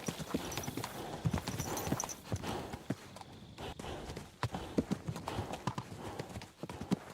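Horse hooves clip-clop steadily in a medieval video game, a close, continuous trotting rhythm with occasional heavier hoof strikes and faint background game noise.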